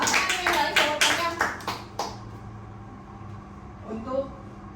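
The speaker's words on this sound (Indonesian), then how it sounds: "Tepuk tangan untuk kita" A small classroom group clapping during a teaching session, a quick run of sharp claps over the first two seconds that fades out, followed by quiet room sound and a brief voice.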